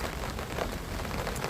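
Heavy monsoon rain pours down steadily near a coconut tree, a dense, even hiss of drops striking surfaces, continuous and fairly close, with no talk.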